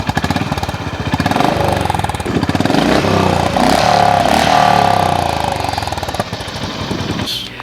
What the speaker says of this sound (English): Only hear the rumble from the exhaust